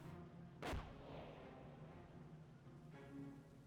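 A US landmine detonates in a Company of Heroes 1 battle, one sharp heavy blast with a fading rumbling tail over continuous in-game battle ambience.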